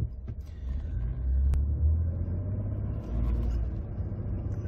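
A 2017+ Ford F-150 with the 10-speed 10R80 automatic accelerates under medium to heavy throttle in manual drive mode. The engine gives a loud, steady low rumble from the cabin, with a brief dip as a gear shifts.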